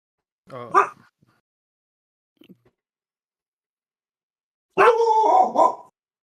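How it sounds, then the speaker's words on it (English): A pet dog barks close by, one sharp yelp followed after a pause by a longer, loud burst of barking and whining, with a faint small noise in the quiet gap between. "He's barking at my face."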